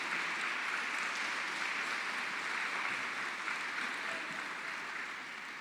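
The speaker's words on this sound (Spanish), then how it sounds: "Dele un fuerte aplauso al Señor" A church congregation claps together in praise during a sermon, a continuous dense wash of applause that holds at an even level throughout without any speech.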